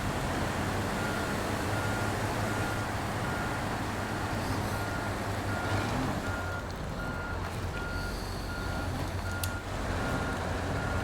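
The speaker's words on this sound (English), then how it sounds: "Your truck has got its reverse sound on." Truck in the SnowRunner game backing up, its reverse alarm giving a run of evenly spaced beeps over a steady low engine rumble, no speech.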